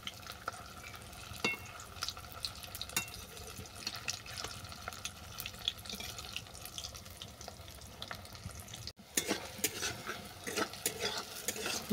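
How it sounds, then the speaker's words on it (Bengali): Mocha dhoka, banana-flower fritters, sizzle and crackle steadily in mustard oil, with scattered scraping and clinks as they are turned, and a louder, busier burst of frying toward the end. "এগুলো উল্টে পাল্টে বাদামি করে ভেজে নেব।"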